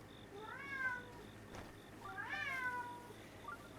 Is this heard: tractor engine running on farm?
no